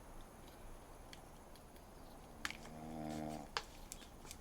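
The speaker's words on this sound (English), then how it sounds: "He's snoring." A person asleep outdoors snores faintly, with one drawn-out rasping snore in the middle against quiet background hiss and a few small clicks.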